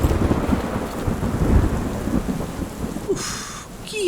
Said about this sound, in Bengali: অভ্র 2 পা এগিয়ে যেতেই কোথায় যেন কড়কড় শব্দে জোরে বাজ পড়ল।